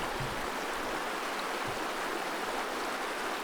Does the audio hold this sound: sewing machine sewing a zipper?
no